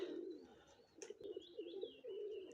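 Homing pigeon cooing softly at close range, a few low rolling coos with faint chirps in a quiet setting.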